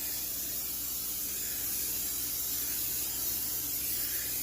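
A steady hiss of cooking spray from an aerosol can onto a small pan, sprayed continuously and close by for several seconds with no talking.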